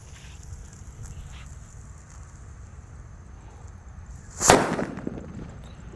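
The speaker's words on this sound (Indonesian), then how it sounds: "di sini ada mercon petir" A mercon petir firecracker goes off inside a bucket with a single sharp, loud bang and brief crackling tail, following several seconds of quiet fizzing and background hiss outdoors.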